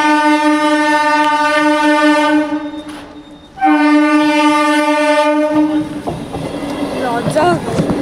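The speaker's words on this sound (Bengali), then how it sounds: "ট্রেনটা দেখাবো।" A train at a railway station blows a loud, sustained horn close by. The horn cuts off briefly, then sounds again before fading into rumbling train noise.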